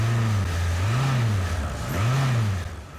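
Newly built car engines on test stands in the hot test area of Toyota Australia's engine plant rev up and down in rising and falling swells, loud and close, with a steady mechanical hum underneath.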